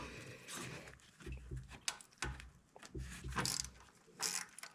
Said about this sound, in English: we'll crack this one loose with a 10 millimeter socket